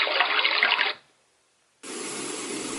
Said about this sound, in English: The next option is the brook noises,